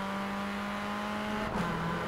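A car accelerating from the start in Forza Horizon 4, rated at 380 horsepower: a steady, loud engine drone with a sharp rise in pitch partway through as it pulls hard.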